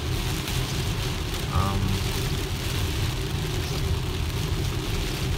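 Heavy rain hits a car driving on the highway under Autopilot, a constant broadband wash of rain and road roar with low engine and tire rumble running steadily throughout and no talking.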